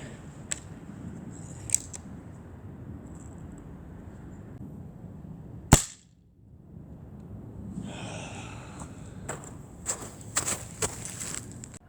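Air rifle fired at a large game hide, a single sharp crack near the middle, loud and close, followed by a brief quiet and then faint rustling and small knocks.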